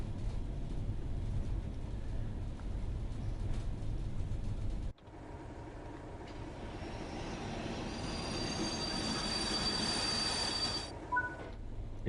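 Freight train in Train Sim World 4 rolling into a station, with a constant low rumble that cuts off abruptly and gives way to rising, sustained high metallic wheel squeal, loud and near, with no talk.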